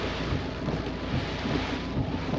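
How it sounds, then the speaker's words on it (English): Heavy storm rain pours down steadily and loudly with a dense, continuous wash of noise, heard from inside a vehicle parked at Airlie Beach, with deep rumbling tones underneath and no talking. "I don't know if you can see how much rain we've got, or getting"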